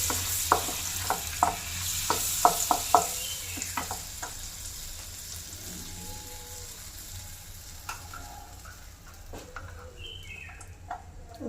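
Chopped onions fry in butter for a coconut milk sauce, a steady sizzle broken by several sharp stirring clinks and scrapes against the pan, close and fairly quiet, with no talking.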